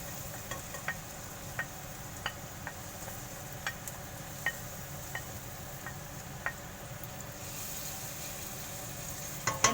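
Onion and green chili frying in oil over medium-low heat, a steady soft sizzle with faint crackling ticks scattered throughout, heard close and alone without any talk.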